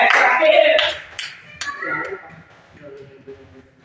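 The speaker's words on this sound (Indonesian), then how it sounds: "kasih tepuk tangan buat" Students in a madrasah classroom give a short burst of hand clapping that fades out quickly, with children's voices and talk following.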